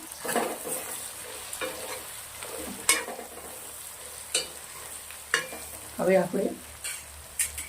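Kashmiri chili powder, turmeric and salt are stirred into hot oil for kundru (ivy gourd) masala pulao, giving a soft steady sizzle broken by scraping spoon strokes, with a brief spoken phrase.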